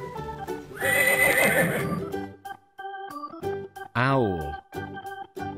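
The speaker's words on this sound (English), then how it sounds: "Horse." A horse whinnies loudly, a high shaky neigh that falls in pitch, over light background music with a few other animal noises.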